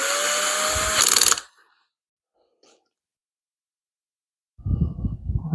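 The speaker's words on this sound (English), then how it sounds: "let's start that with the small drill bit" A small drill bit bores into a steel Hemi connecting rod being made into a lamp, a loud steady whine for about a second before cutting off into silence, with a rougher noise at the end.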